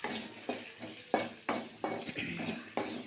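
Mustard seeds, dried chillies, shallots and curry leaves are stirred in a pan of hot oil, with a quiet sizzle under regular scraping strokes of a spoon, about two per second.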